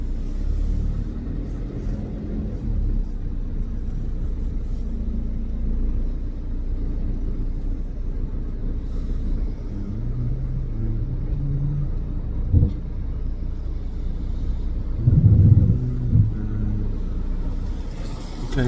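A car drives on a road on a chilly day, heard from inside as a continuous deep rumble of engine and tires, with a few brief bumps and shifts in tone and no speech.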